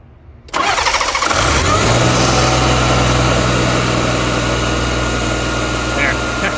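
A Mazda engine with a leaking fuel pressure regulator cranks briefly, then catches and settles into a loud, steady idle close by, with a slight rev early on.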